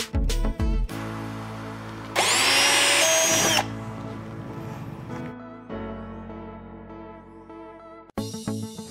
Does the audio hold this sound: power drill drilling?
yes